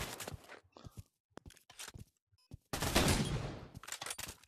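Gunfire in the VR shooter Pavlov comes as a quick burst of sharp shots, short silent gaps, then a longer sustained volley of rapid fire, close and loud.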